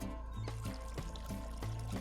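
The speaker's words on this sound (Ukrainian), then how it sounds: "Треба набрати води" Water filling a container in the game Schedule I, a soft pouring trickle under a looping game music track with rhythmic tones, quiet and steady with no talking.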